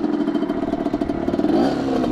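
A Rieju 50cc motorcycle pulls away with its small engine revving steadily and rising in pitch, close and fairly loud, with no talk over it.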